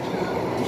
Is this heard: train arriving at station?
yes